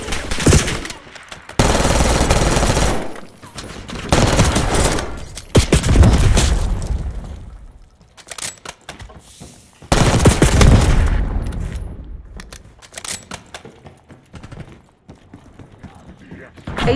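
Video game gunfire from a Kompakt 92 in a Stakeout match comes in loud, dense bursts of rapid shots, broken by quieter gaps, with voices speaking over parts of it.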